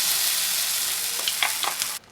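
Mustard seeds and fenugreek sizzling steadily in hot oil with brief crackling pops as they hit the pan, then the sound cuts off abruptly.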